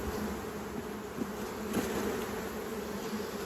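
Honey bees buzzing around hive frames during a hive inspection, a dense, continuous close drone of many insects at steady volume.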